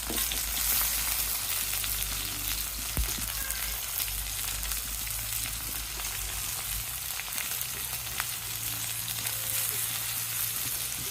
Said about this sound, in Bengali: এখন যেখানে আছে কিছু বেগুন এটি ভাজি করবো